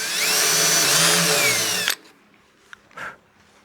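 A barrel trimmer whirs loudly for about two seconds as it squares a pen blank flush to its brass tube, then cuts off, followed by a few faint clicks and handling sounds.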